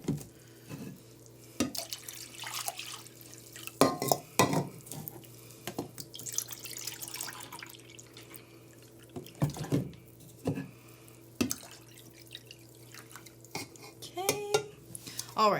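Liquid is poured into a container while cups and cutlery clink nearby, with intermittent splashes and trickles amid kitchen clatter and a low steady hum.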